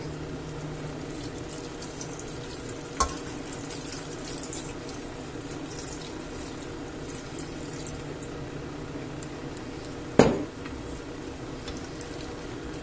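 Water runs steadily from a tap into a pot of meatball stew for several seconds, with a couple of sharp clanks of metal along the way.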